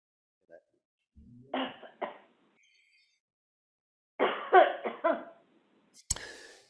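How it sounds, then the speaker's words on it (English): Several separate coughs in a quiet church service: a pair of short coughs, then a longer cluster, and a final sharp one. "I'm going to cough."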